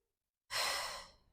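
A single strong exhale during a lordosis corrective exercise, a breathy rush that starts abruptly after silence and slowly fades, heard alone up close.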